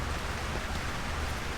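Heavy rain pouring down steadily in a dense, even hiss of drops, close and unbroken with no voices.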